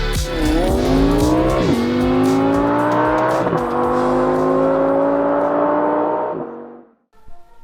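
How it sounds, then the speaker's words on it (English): Audi A5 40 TDI 2-litre diesel with quattro accelerating hard, engine note climbing steadily through gear changes, loud and close, then cutting off near the end. "This is the 40 TDI, which means it's a 2-litre diesel with 190 horsepower and 400 Nm of torque"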